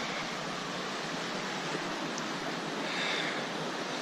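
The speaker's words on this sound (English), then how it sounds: "we made it to the South Platte River" Steady broadband rush of the South Platte River flowing along the Colorado Trail, a continuous even wash of water that stays constant and fairly loud throughout with no voices.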